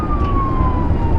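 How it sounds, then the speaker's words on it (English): A police car siren blares during a high-speed chase, a single steady wailing tone sweeping slowly downward over constant loud road and engine rumble, with no voices. "The police blared their sirens relentlessly, commanding the criminal to pull over"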